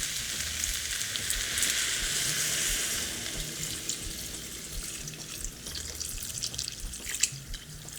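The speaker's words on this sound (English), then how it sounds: "I'm ready to add my liquid, which is the coconut milk" Coconut milk being poured into a simmering pot of vegetable soup, a continuous liquid hiss and rushing pour that eases off into softer bubbling and stirring with a small clink near the end.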